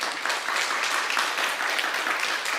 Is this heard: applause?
yes